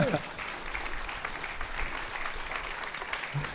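An audience at an awards ceremony applauds, a steady wash of clapping hands that fills the room at moderate volume, with a voice briefly heard at the start and end.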